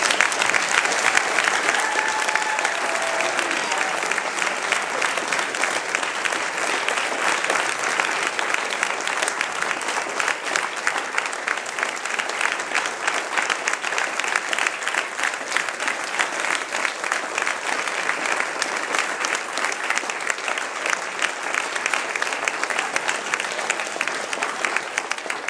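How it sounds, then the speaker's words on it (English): Sustained, even applause from an audience at an entomology student quiz competition final, with dense clapping at moderate loudness filling the whole stretch and no break. "Jay, stand up and receive a round of applause."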